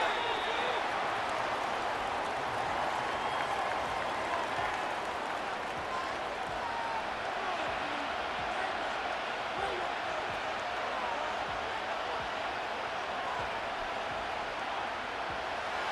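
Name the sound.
stadium crowd noise in the video game Madden NFL 25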